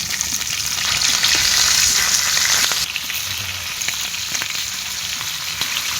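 Hilsa fish fries in hot oil with a loud, continuous close sizzle and crackle that eases slightly partway through, with no voices.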